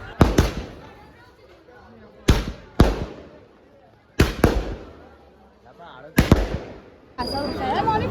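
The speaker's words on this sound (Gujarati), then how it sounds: "અવર પક્ષ દ્વારા બોમ્બ ફોડવામાં આવી રહ્યા છે અને ઉજવણી કરવામાં આવી રહી છે" Firecrackers burst loudly at an outdoor wedding celebration: five sharp, close bangs ring out at irregular intervals, each decaying into a noisy crackle, with crowd noise swelling toward the end.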